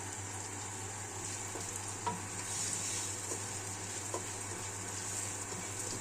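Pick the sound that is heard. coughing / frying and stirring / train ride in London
frying and stirring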